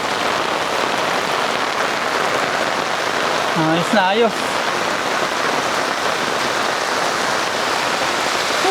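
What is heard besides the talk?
heavy rain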